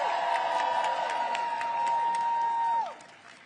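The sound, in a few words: crowd applause at a protest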